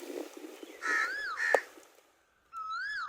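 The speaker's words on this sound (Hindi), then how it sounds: "कौवे ऊपर बैठ के इंतजार कर रहे हैं कि हमें भी कुछ मिले" Crows caw from somewhere above an outdoor cooking spot where chicken biryani is being made, giving several harsh calls in two bursts, one partly overlapping a short sharp knock, followed by a brief pause and another loud caw.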